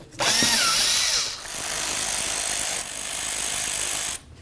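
A power tool removes 8mm bolts on a 2009-2016 Mercedes-Benz E350. There are three loud, close bursts of steady high-pitched whirring, separated by brief pauses.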